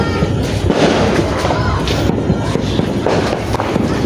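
New Year fireworks bursting continuously overhead, a dense rapid crackle of loud popping reports with people talking in the background throughout.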